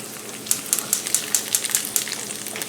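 An egg sizzles and fries in a pan, giving a steady crackling hiss with a run of regular sharp pops and spits, close up and without talk.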